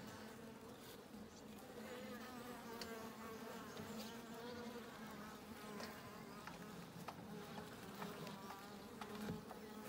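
Honey bees swarm around a homemade horizontal hive, their dense buzzing a continuous close drone lasting throughout, with individual bees passing near now and then; no one speaks.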